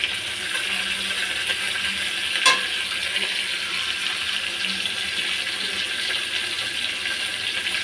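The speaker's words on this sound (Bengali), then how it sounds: "মাছ ভেজে নিয়েছি, কালো জিরে ফোড়ন দিয়ে দিলাম" Black cumin seeds crackle in hot oil left over from frying hilsa fish, a steady bright sizzle with a brief sharp pop and faint stirring, close and continuous without speech.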